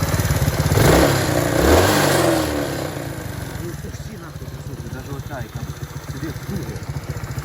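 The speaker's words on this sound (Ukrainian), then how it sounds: "в мене такий звук мотора, коли я даю трохи газу" A Mustang's engine revs loudly for a couple of seconds, then drops back to a rough, rattling idle that keeps chugging steadily.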